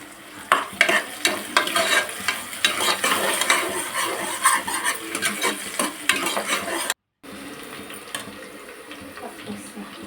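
Onions with curry leaves fry in a pan for a mutton curry while a spoon stirs them, giving an irregular scraping and sizzling clatter that stops briefly near the end, then a quieter sizzle resumes.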